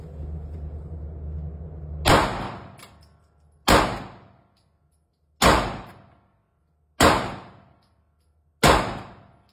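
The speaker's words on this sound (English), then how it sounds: "I'm going to shoot 3 different firearms here" Handgun shots fired at a shooting range, with five loud, sharp reports spaced about one and a half seconds apart, each ringing out and decaying quickly, following a stretch of low background noise.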